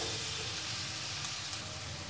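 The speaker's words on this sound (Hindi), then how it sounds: "चारों तरफ से मिक्स करके हमको मसाले को भून लेना है।" Chili-powder masala for chole fries in a pan, giving a soft, steady sizzle with light stirring and no talk.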